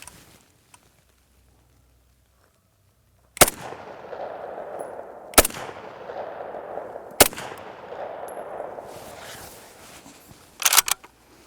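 Several loud rifle shots from a Soviet SVT-40 converted to .303 British and made in Canada, spaced a couple of seconds apart with ringing tails, ending in a quick pair of shots; no talking.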